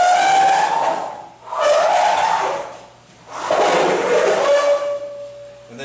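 A Whirlpool dryer dragged and turned on the floor, giving loud squealing scrapes in three drawn-out pushes, each rising and falling, close by.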